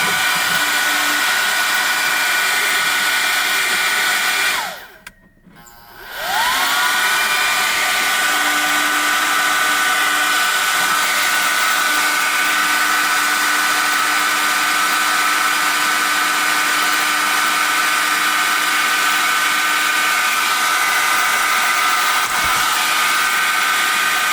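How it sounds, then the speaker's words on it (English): A heat gun on its second setting shrinks heat-shrink tubing on wires during a power inverter install in a truck, a loud, steady close blowing roar that cuts out briefly and restarts. "I'll go ahead and shrink wrap these guys."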